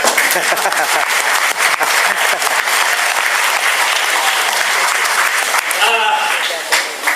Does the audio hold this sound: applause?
yes